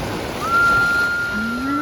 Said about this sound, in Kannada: ಅಲೆ ಬಂತು ಅಲೆ ಬಂತು ಅಲೆ ಬಂತು ಅಲೆ ಬಂತು